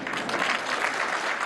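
An audience at a piano concert greets an Italian pianist with warm, dense applause, steady and continuous throughout.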